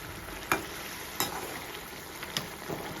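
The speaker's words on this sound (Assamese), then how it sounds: "এই মাছ তিনিডোখৰ আমি এতিয়া গ্ৰেভিখনত দি দিম দি পেলাই এতিয়া আমি ভালদৰে লৰাই ল'ম" Three fried fish pieces are stirred into a simmering gravy for an Assamese fish curry. The pan gives a soft, steady sizzle and bubble, broken by a few scraping stirs, and no one speaks.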